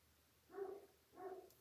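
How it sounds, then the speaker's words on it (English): Two muffled barks from a dog at a distance, evenly spaced and faint, with quiet background otherwise. "just barking out there"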